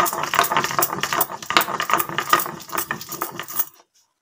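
Poppy seeds with dried and green chillies are ground on a stone slab, giving a rhythmic series of close, gritty scraping strokes that stop abruptly near the end.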